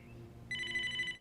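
Telephone ringing in a movie scene: one short electronic ring burst, clear and fairly close, after a brief quiet lead-in.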